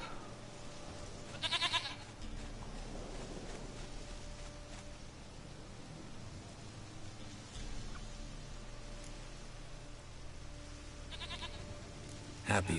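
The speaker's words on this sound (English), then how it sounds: "Goat of mine, dearest, sweetest goat." A goat in a video game bleats twice, short and fairly loud, several seconds apart, over a steady low ambient hum.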